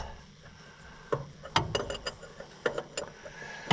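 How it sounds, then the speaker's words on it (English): Ratcheting clicks and metallic knocks from a wrench turning a bolt on an Allis Chalmers 7040 tractor, coming in several short close bursts over a quiet background. "This is gonna be one of the ones where we use all 4 sides of the wrench."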